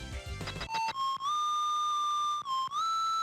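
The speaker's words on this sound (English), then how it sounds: "Proto Man's whistle sounds odd." Proto Man's whistle from the Mega Man video game: a bright, steady synthesized whistle melody with a few pitch steps, loud and alone after a brief burst of game sound at the start.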